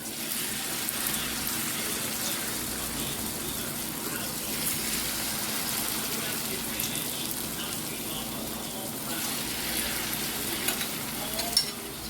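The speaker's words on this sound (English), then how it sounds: "Leave them and let them take their time and fry about 2 to 3 minutes." Caribbean sweet potato fritters frying in hot oil, giving a constant close crackling sizzle with occasional small pops and no talking.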